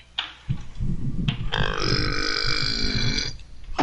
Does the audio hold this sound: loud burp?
yes